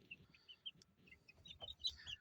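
Chicks peep in high, scattered chirps while a rooster and hens cluck in low bursts, all faint and close in a farmyard coop, with calls overlapping irregularly.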